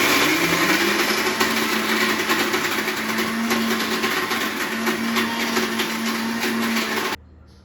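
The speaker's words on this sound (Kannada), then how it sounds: "ನಾನು ಮಿಕ್ಸಿಗೆ ಹಾಕ್ತಾಯಿದ್ದೀನಿ ಒಳ್ಕಲ್ಲಕ್ಕೆ" A kitchen mixer grinder blends sorrel leaves into chutney with a steady, loud whirring motor drone that runs continuously for about seven seconds, then cuts off abruptly.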